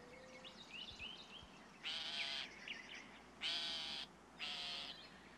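A northern shrike gives three harsh, buzzy, rasping calls, each about half a second long with short pauses between, clear against a quiet outdoor background.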